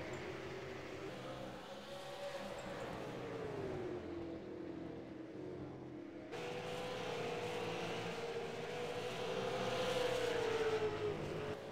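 Race cars running bumper to bumper on a short asphalt oval at Five Flags Speedway, engines droning and rising in pitch as they accelerate, a continuous distant roar with one car's whine swelling louder near the end.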